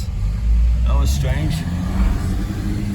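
A car with a damaged engine pulls away, its low rough engine rumble rising and fading over a few seconds while a person speaks over it.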